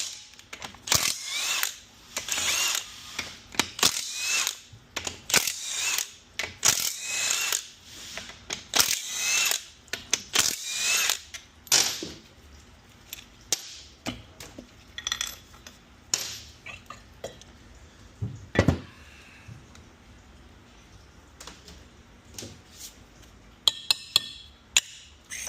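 A 6L80 automatic transmission having its tail shaft removed, heard as a series of sharp metallic clanks, knocks and scraping of parts and tools, irregular and close, thinning out toward the end.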